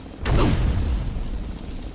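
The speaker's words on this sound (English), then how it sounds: "Jack Ryder's chopper I see." Jack Ryder's helicopter in the video game Batman: Arkham Asylum, a loud sudden burst that falls away into a heavy rumbling roar lasting about two seconds.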